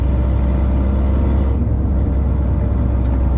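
A Honda Civic drives with a continuous low engine rumble and road noise, steady and close throughout, with no voices.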